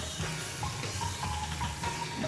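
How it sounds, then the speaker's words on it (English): Minced sofrito vegetables frying in added fat in a pan for meatball sauce, a steady close hiss of sizzling with faint stirring movement throughout and no talking. "You wanna fry these minced vegetables and extract that liquid and concentrate the flavors"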